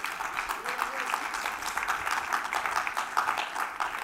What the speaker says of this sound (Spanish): ¿Cuántos dan palmas al Señor por ello?